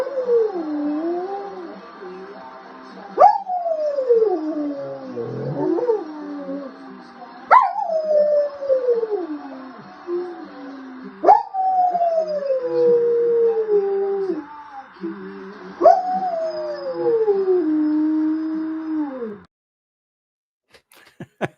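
A dog howls along to a football podcast's theme tune, rising and falling wails repeated about four times over steady background music, fairly close and loud, then stopping into near silence.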